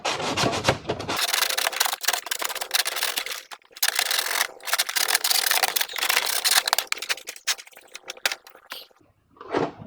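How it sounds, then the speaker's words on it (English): Palm sander working the outside edge of wooden back box panels for a tank driver armor build, a steady, close abrasive whir that runs in long stretches with short pauses and stops near the end. "We're going to still sand around that outside edge using the palm sander"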